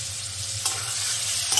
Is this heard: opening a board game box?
no